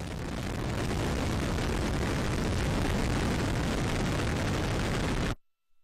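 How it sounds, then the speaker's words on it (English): Atlas V 401 rocket with an RD-180 engine lifting off at launch: a loud, continuous broadband roar with deep crackling rumble, steady for about five seconds before cutting off abruptly. "We have RD-180 ignition, and we have liftoff of the United Launch Alliance Atlas V rocket"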